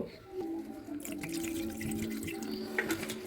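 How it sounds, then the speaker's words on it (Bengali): Water runs and splashes steadily into a cooking pot of mutton with Kashmiri chilli, a continuous close pour with faint dripping, no voices. "এবার একটু এতে জল দিব"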